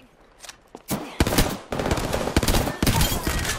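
Apex Legends gunfire in rapid automatic bursts, starting with a few scattered shots and then building into loud sustained sprays with brief gaps, close and dominant.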